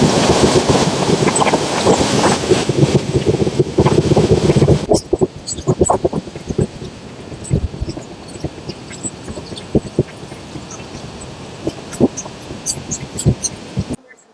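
Passenger train on the nonstop stretch between Mecheda and Panskura, heard from on board: a loud, dense rolling roar for about five seconds, then a quieter steady run with scattered clicks and rattles.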